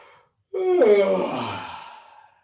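A single long, breathy yawn with a voiced rise at the start, close and fairly loud, trailing off slowly into quiet.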